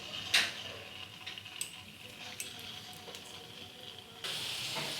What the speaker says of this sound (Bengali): কড়াইয়ে তেল বসিয়েছি বলগুলো ভেজে নেব তেলটা গরম হয়ে গেছে বলগুলো ছেড়ে দিচ্ছি